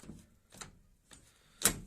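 An MTZ tractor cab door lock is worked by hand, giving a few soft separate clicks and rattles that end in one sharper, louder metallic clack.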